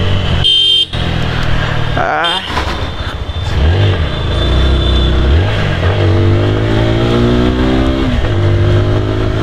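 A TVS Apache RTR 160 4V motorcycle's 160cc engine revs hard and climbs in pitch, dropping back and surging again, loud and close, with wind noise throughout while riding.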